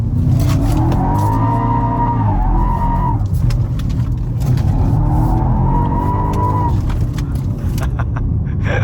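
A heavy BMW M5 G90 drifting in fourth gear on tight roads: a loud, sustained engine roar with long sliding tire squeal in two rising waves, heard from inside the car.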